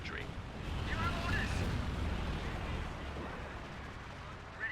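Anti-tank fire destroying an immobilised vehicle in Company of Heroes 2, heard as a sustained, dense rumble of blasts and gunfire in a battle mix, with a brief thump near the end.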